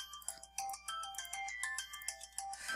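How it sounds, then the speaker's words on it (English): A phone alarm-clock ringtone chimes in a quick, repeating melodic pattern of bright electronic tones, fairly loud and close, with no talk over it. "That's my alarm clock."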